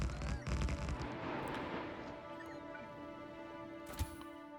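Gun turrets fire in Factorio Space Age during a base rebuild on Vulcan, with a burst of rapid shots at the start that fades into a humming factory drone, followed by a lone sharp crack near the end.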